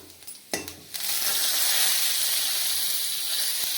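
Cumin seeds hit hot oil for a paneer curry, with a couple of sharp clinks first and then a loud, steady, crackling sizzle that fills the rest of the moment.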